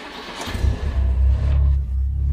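A car engine rumbles and revs low and close, a deep steady growl swelling briefly before settling, with faint voices in the background.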